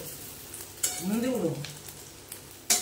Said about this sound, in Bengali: এবার দিয়ে সয়াবিনটা দিয়ে কষে নেব